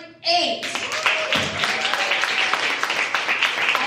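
Loud, sustained applause from a crowd at a poetry slam, steady and dense, with a brief voice or whistle at the start.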